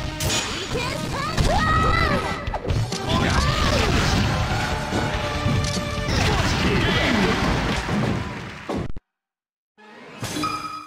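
Targets shatter in a Super Smash Bros target-breaking stage, with a rapid run of smashes, whooshes and thwacks over game music and announcer voice lines, then a sudden silence before a short final burst.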